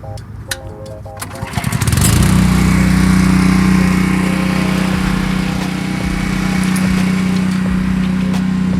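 The small engine on a soft washing unit with a proportioner pulls over after some clicks and handling noises, then catches and settles into a loud, steady, buzzing run like a lawn mower.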